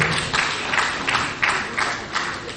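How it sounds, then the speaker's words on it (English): Audience applause at a formal televised event, a steady wash of many hands clapping from a large crowd, continuous and fairly loud with no talk. "Can we please give them a round of applause once again?"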